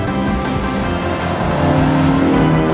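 A red Alfa Romeo 75 project car, revived after years abandoned, runs on a race track, its engine note loud and close, rising in pitch as it accelerates hard with no one talking.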